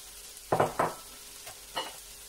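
Vegan meat-style chunks frying in a pot, heard as a few short bursts of sizzling and stirring, two close together near the start and a softer one later, over a quiet kitchen background.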